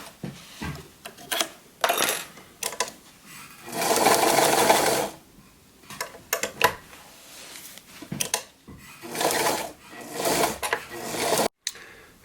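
A home sewing machine stitches through fabric layers for homemade bar mittens (pogies) for winter cycling. It whirs in short runs of a second or so, and each run is broken by pauses and small clicks and knocks as the work is adjusted.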